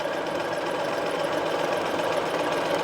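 A sewing machine stitching a hem facing for a McCall's 7862 garment runs in a steady, continuous mechanical whir, close and even, with no talking.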